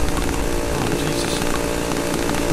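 A chainsaw runs in the horror video game Cry of Fear, a loud, steady buzzing drone that fills the whole stretch without letup, with no talk over it.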